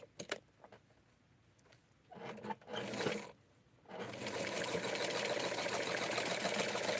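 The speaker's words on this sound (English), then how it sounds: "I'm going to sew it into place so that our skirt can start taking form." A sewing machine stitches fabric for a wrap skirt from a McCall Crafts 6876 Barbie pattern, starting with a couple of short bursts and then running steadily and fairly loudly for the last few seconds, with no talking.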